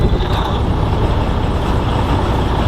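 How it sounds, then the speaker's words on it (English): A Peterbilt truck's diesel engine runs close by with a loud, steady, throbbing rumble and no break throughout. "And then go ahead and start the truck."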